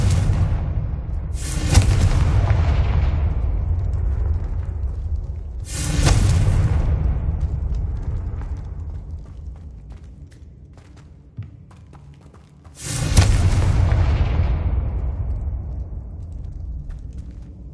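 Three heavy, booming spell blasts from the Confringo fire spell in Hogwarts Legacy, each a sharp broadband burst that rolls off into a long rumbling decay, spaced several seconds apart and loud in the foreground.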